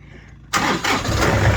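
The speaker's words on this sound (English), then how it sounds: "Tractor will fire." A tractor engine cranks and fires after a half-second of near silence, then settles into a loud, steady running roar with slight surges, close by and with no talk over it.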